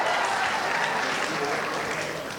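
Soft, steady applause from a crowd at a school graduation ceremony, distant and even throughout with no distinct individual claps.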